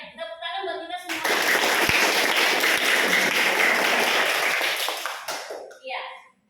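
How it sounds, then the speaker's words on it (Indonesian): A classroom group applauds together in a dense burst of clapping that lasts about four seconds, with voices heard faintly before it starts and just after it fades. "Tepuk tangan buat kita semua."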